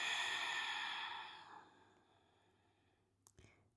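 A long, audible nasal exhale during a stretching exercise with a massage ball, loud at first and then tapering off, followed by a short sniff near the end.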